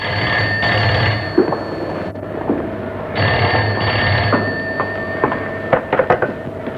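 An old landline telephone bell rings in repeated bursts, loud and close, with short pauses between rings and a few clicks near the end.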